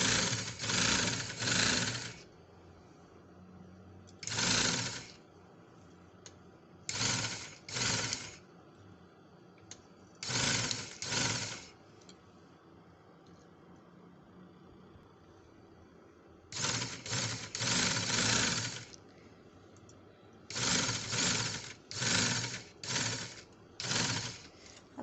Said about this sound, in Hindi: इनको सिलाई कर कर सीधा कर लेंगे